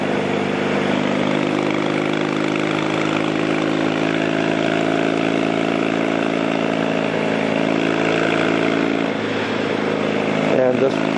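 A motorcycle ridden on an open, trafficless road after repair work, its engine droning steadily and loudly close by with wind noise throughout and little change in pitch.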